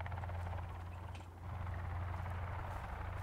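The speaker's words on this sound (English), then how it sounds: "Wait, I hear chopper." A helicopter in the video game Sons of the Forest drones with a steady low rotor thrum throughout, loud and continuous with a brief dip in the middle.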